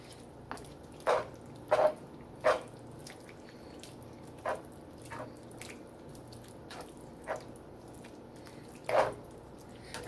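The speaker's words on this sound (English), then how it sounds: "I'm gonna add some broccoli in that too. And then mix all of that in together." Broccoli is stirred into chicken alfredo in a shallow pan, a series of close wet squishing and slapping sounds at irregular intervals over a quiet kitchen background.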